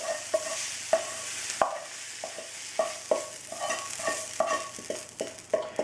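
Vegetables frying in a pan with bacon, a soft steady sizzle broken by frequent sharp clanks and scrapes of a utensil stirring against the pan, close and clear with no talking.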